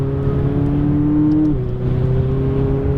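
A McLaren 570S sports car on a race track gives a loud, steady engine drone that drops in pitch partway through as it brakes and downshifts, then holds a lower note.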